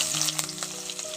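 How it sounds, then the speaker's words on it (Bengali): Chopped onion fries in hot oil with whole tempering spices, a brief, close, bright sizzle crackling continuously with no voices. "পেঁয়াজ কুচিটা পেঁয়াজের সঙ্গে একটু ভালো করে ভেজে নিচ্ছি"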